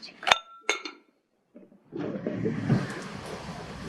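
Two sharp clinks of vintage glass cups ring out close together, followed after a pause by a louder rustling, clattering jumble of handling noise as they are packed in newspaper.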